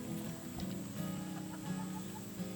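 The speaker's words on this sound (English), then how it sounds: "Had some folks ask about our chickens." Backyard chickens cluck softly in a yard in the morning, giving scattered short calls over a faint, steady outdoor background.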